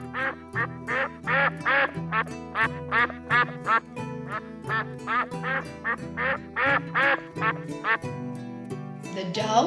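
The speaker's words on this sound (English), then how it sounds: "The duck sounds as quack, quack, quack." A duck quacks in a fast, regular series of about two dozen loud, clear nasal calls close by, evenly spaced with short gaps, ending in a brief scrambled flurry.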